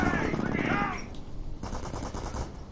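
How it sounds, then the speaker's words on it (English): Anti-aircraft gun fire in the video game Company of Heroes: Tales of Valor, a steady run of rapid shots under a voice at first, then continuing alone at moderate loudness. "Bring him near to my AA gun, he'll tear it to shreds."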